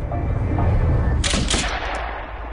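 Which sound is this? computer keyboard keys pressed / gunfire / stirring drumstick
gunfire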